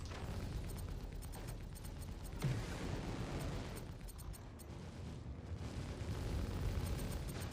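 Weapons fire and explosions rumble in a Star Citizen space battle against Navy ships, with a steady low roar, scattered sharp pops and a heavier boom partway through, all fairly faint.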